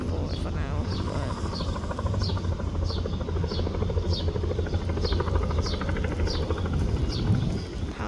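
A Bell 206 helicopter lands away from any helipad, its rotor thumping in a steady, even pulse over a constant engine whine, heard at moderate distance throughout.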